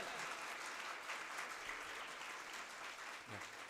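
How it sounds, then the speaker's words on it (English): A live audience at a national conference on building Viksit Bharat 2047 gives a sustained round of applause, steady dense clapping from a large hall crowd that holds at an even level throughout. "Have a big round of applause for yourself."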